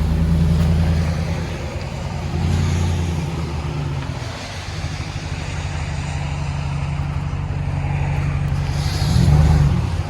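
A Ram 1500 with the 5.7L HEMI V8 and a Flowmaster Super HP2 muffler idles steadily, a deep low exhaust rumble that swells slightly now and then, with no talking over it.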